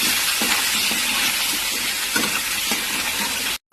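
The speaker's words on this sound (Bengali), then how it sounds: "আলুগুলোকে একটু ভেজে নেবো লাল লাল করে" Potatoes fry in hot oil seasoned with black cumin seeds, giving a steady broadband sizzle with a few soft stirring knocks, close and fairly loud, before cutting off abruptly near the end.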